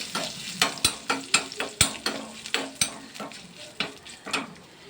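A tempering with asafoetida for coconut chutney is stirred in a hot pan, about a dozen sharp, rhythmic scraping strokes over a steady close-up sizzle, with no talking.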